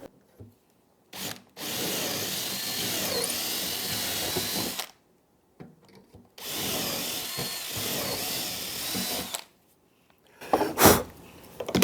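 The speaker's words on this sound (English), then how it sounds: "So I can use the brad point bit. So let's drill the holes." A power drill with a brad point bit drills holes in an armoire, whirring in two long bursts of several seconds each, separated by a quiet pause, with a short buzz at the start and a brief burst at the end.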